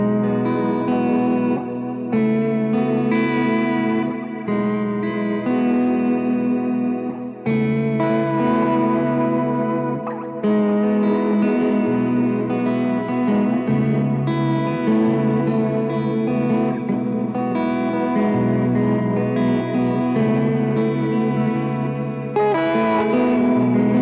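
An electric guitar plays through a worship pedalboard, its phrases doubled by a tap-tempo delay into thick, echoing, slightly distorted repeats. The loud, continuous wash layers chords with added sevenths under a chorus-like shimmer, and no one talks.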